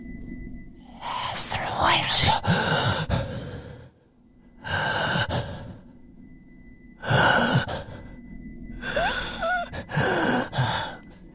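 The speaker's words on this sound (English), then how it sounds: "it sounds like someone's breathing heavily" Heavy, breathy exhalations and gasps come in several bursts separated by short pauses, close and fairly loud, with whispery noise between breaths.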